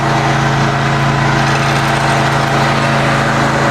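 A sawmill engine drones steadily and loudly while cutting a one-inch Norway spruce board, a constant high-pitched hum with no break.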